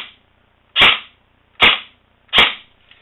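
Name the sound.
airsoft Classic Army MP5 SD6 gun firing one shot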